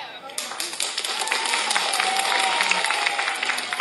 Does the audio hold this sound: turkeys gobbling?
no